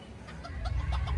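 Several small chickens of various breeds cluck softly nearby in short, scattered bursts over a low background hum.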